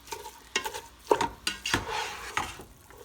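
Spoon stirring ground turkey chili in a cooking pot, a series of scraping, clattering strokes with soft sizzling between them, close and fairly loud with no talking.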